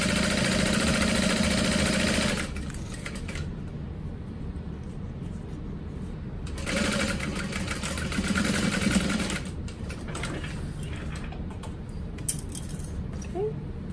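Sewing machine stitching a crossbody bag: two loud, steady whirring runs of stitching separated by quieter pauses with light handling sounds, close by and without talk.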